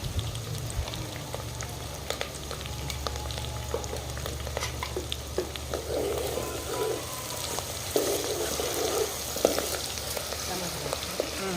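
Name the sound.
green chilies and ginger garlic paste frying in a pan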